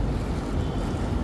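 Jacuzzi jets push strong warm water in a steady, close, low rushing churn, a continuous turbulent roar with no breaks.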